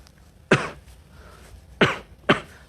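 Three separate coughs, each muffled behind a covering hand, come close and sharp against a quiet room: one early, then two more in quick succession about a second later.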